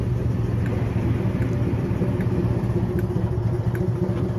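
Devon Diesel Society's Class 04 diesel shunter locomotive on the South Devon Railway, a steady low engine rumble idling close by, continuous and even throughout with no talk.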